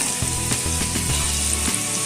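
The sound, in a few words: ginger and garlic frying in oil in a pan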